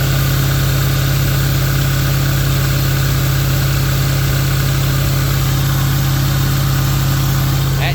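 A Land Rover engine idles alone, with a constant low hum and a dense rumbling drone that does not change over the whole stretch.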